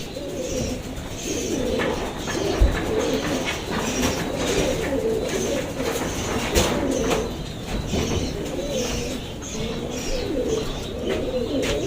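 Pigeons cooing steadily in a loft, overlapping soft rolling coos close by with occasional chirps and wing flutters throughout.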